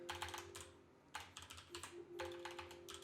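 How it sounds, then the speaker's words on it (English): Rapid typing on a computer keyboard, dense bursts of quick clacking keystrokes separated by short pauses, close and fairly quiet with a low steady hum underneath. "typing too fast."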